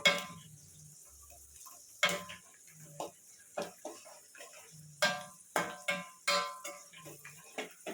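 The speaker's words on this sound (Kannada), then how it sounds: "ದ್ರಾಕ್ಷಿ ಗೋಡಂಬಿ ಜೊತೆಲೇ ಫ್ರೈ ಆಗ್ತಾ ಇದೆ ನೋಡಿ" Raisins and cashews fry together in a pan for a homemade sweet, giving a quiet low sizzle broken by sharp metallic clinks and scrapes of a spoon against the pan at an irregular rhythm, close by with no talking.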